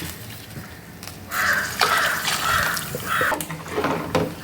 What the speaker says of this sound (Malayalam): ഇനി നമുക്ക് ഇതിലേക്ക് ആവശ്യത്തിനുള്ള വെള്ളം ചേർത്ത് കൊടുക്കാം